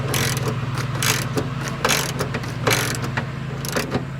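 A nut on a Toyota Camry outside front door handle is snugged down with a ratchet, sounding as quick, close clicking bursts over a steady low hum.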